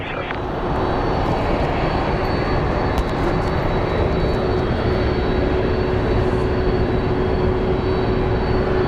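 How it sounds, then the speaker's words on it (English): A loud airliner at Phoenix Sky Harbor airport makes a sustained, close engine roar with a thin whining tone running steadily through it. "That is one loud plane, man."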